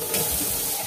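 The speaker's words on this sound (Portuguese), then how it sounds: "Vou colocar agora, nesse momento, mais ou menos 200 ml de água." Water poured steadily into a cooking pot holding broccoli, a continuous close splashing and gushing stream with no break.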